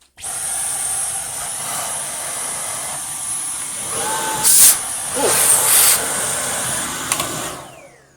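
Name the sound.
Dyson digital motor cordless vacuum cleaner running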